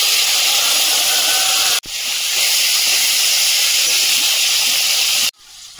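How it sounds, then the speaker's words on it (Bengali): Fish hiss loudly in hot oil in a wok at an outdoor, smoky cooking spot, a harsh, continuous sizzle that cuts off sharply twice and then carries on. "মাছগুলো দিয়ে দেব"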